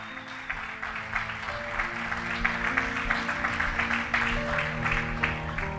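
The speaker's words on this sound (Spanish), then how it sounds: "Dale un fuerte aplauso a Dios." A church congregation applauds God during a sermon, with steady crowd clapping over a sustained musical backing of held keyboard-like tones, continuous and moderately loud.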